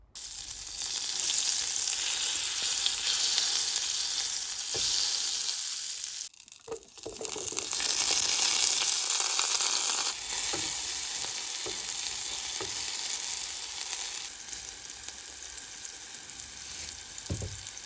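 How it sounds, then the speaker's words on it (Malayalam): Mushroom and egg fry in butter in a pan, a loud steady sizzle that runs throughout. It cuts off briefly at one point, then comes back, with a few light scrapes and taps of stirring. "പിന്നെ ഞാനൊരു മഷ്റൂമും എഗ്ഗും കൂടി ഇട്ടിട്ട് ഒരു സ്ക്രാമ്പിൾ ചെയ്തു, അല്ലെങ്കിൽ ഓംലെറ്റ് പോലെ എടുക്കാമെന്ന് വിചാരിച്ചു"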